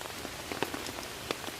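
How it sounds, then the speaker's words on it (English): Heavy rain pouring down in Sherwood Forest at a bushcraft tarp camp, a dense continuous hiss of drops with scattered sharper pattering hits close by. "But it's really coming down now, the rain."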